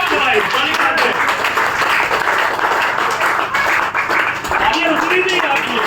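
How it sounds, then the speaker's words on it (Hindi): Dense, continuous applause from an audience at a motivational meeting in Haridwar, loud and steady throughout with no break, a broad wash of many hands clapping together. "तालियां रुकनी चाहिए आपकी"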